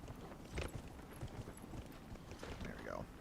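Hooves clip-clop steadily at a running pace, mid-distance, with other game sounds mixed in, from a horse galloping in Dragon Age: Inquisition.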